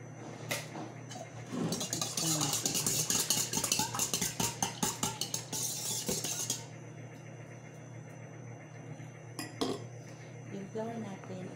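A utensil clinks and scrapes rhythmically against a bowl while mixing dough ingredients with an egg for cinnamon rolls, a quick run of steady taps for several seconds that then stops, leaving a low hum and a couple of faint knocks.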